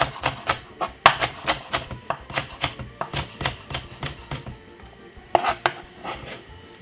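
A knife chopping red pepper finely on a cutting board, with quick, close, crisp chops in a steady rhythm and a couple of louder knocks partway through.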